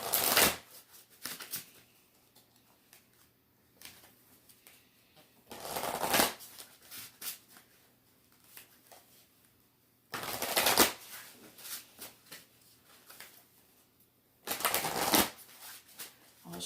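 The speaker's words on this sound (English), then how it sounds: "Shuffle till it won't let me shuffle anymore." Tarot cards are shuffled in four separate bursts of crisp riffling, each lasting about a second, with quiet pauses between them.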